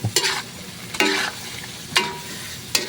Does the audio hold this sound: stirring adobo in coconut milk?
yes